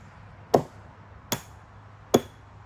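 A 3-pound sledgehammer drives stakes for a hand-built retaining wall, landing three separate sharp blows spaced under a second apart, each a crisp close impact over quiet outdoor background.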